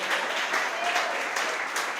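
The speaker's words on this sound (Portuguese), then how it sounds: "Dá mais uma forte salva de palmas ao nosso Senhor." A congregation at Paz Church in Marília bursts into applause, a full, steady roar of clapping hands that stays strong and even for its short length, with no speech.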